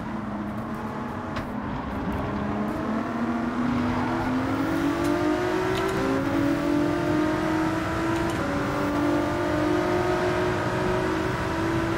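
Race car engine from the Gran Turismo 7 racing game, loud and sustained, its pitch climbing steadily through gear changes as the throttle is feathered and reapplied over twelve seconds.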